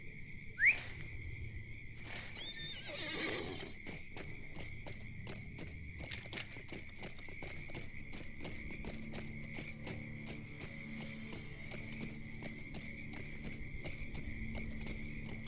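Rhythmic horse hoofbeats in Lord of the Rings Online clip-clop steadily at a walking pace, with a brief high whistle near the start and soft ambient tones underneath.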